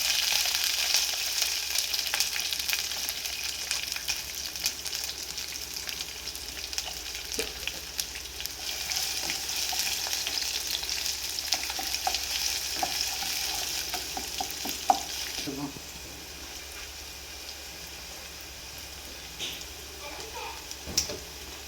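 Onions frying in oil, following garlic and curry leaves, for a Malabar fish curry: a steady, dense sizzle and crackle throughout, with a few clicks from the pan and a slight drop in intensity toward the end.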